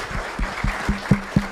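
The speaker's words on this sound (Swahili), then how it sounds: "Makofi kwake jamani, Mheshimiwa John Kiarie." An audience at a cyber security law forum claps for an arriving member of parliament, a brief burst of evenly spaced claps.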